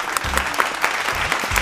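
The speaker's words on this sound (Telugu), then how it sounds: "ఒకసారి క్లాప్స్ కొట్టండి గట్టిగా" An audience claps loudly and steadily close by, a dense patter of many hands at a televised event at Nehru Zoological Park.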